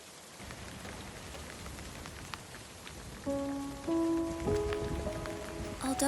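Steady rain patters on a surface, a soft continuous hiss with scattered drops, while faint sustained tones rise in the background toward the end.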